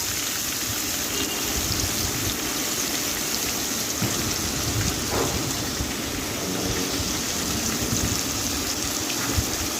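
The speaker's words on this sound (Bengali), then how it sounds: "আলুটা লাল লাল করে ভেজে নেব।" Potatoes frying in hot oil with salt, a loud, dense, continuous sizzle that crackles steadily throughout with no pauses.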